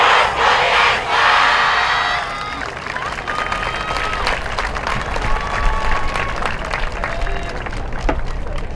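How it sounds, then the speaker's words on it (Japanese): Loud crowd applause and cheering from an audience at the Inuyama dance festival, where a team prepares its final performance. Dense clapping and shouting fill the opening two seconds, then settle into steady rhythmic clapping-along with scattered calls that continue at a lively level. "どうぞ皆様ご声援手拍子よろしくお願いいたします。"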